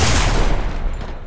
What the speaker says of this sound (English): Oh, you're using a pistol.